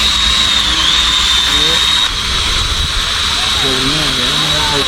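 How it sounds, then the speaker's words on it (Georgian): A drone flies overhead at a birthday gathering, giving a steady, loud high-pitched whine that holds throughout while people talk underneath. "ჩემს თავზე მო დრონი დაფრინავს, ნახეთ."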